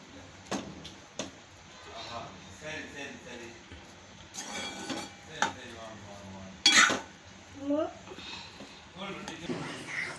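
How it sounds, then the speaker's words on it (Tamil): Cooked rice being gently folded into coriander paste in a pan, with soft spoon scrapes and occasional clinks of utensil against metal, set under a person talking throughout. "சாதம் உடையாம மெதுவாக மிக்ஸ் பண்ணி விட்டுக்கலாம்"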